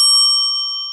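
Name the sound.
angel bell item chime, Dragon Quest video game sound effect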